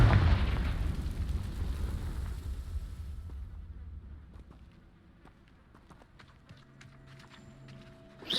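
The Confringo fire spell in Hogwarts Legacy lands as a loud, rumbling explosion that fades over a few seconds, followed by quieter game sounds and light clicks.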